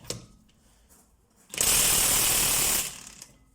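Cordless impact wrench, a Brilliant Tools model tested against a DeWalt DCF899H, hammering at old screws left untouched for years; one loud, steady rattling burst of about one and a half seconds follows a quieter lead-in, then it stops.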